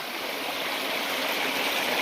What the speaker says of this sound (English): the water does come down over that that back wall there